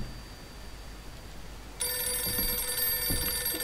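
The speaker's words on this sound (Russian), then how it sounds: "Телефон, всего лишь телефон." A telephone rings in the horror game Visage, starting abruptly after a quiet stretch and continuing as a loud, bright, sustained electronic ring with no voices.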